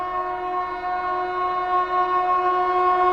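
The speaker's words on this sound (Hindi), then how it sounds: "बनारस नई दिल्ली शिवगंगा सुपरफास्ट एक्सप्रेस क्या आ रही है भाई" Shivganga Superfast Express, a Banaras–New Delhi superfast passenger train, passes close by with a loud, steady tonal horn blast held for the full length, continuous and unbroken.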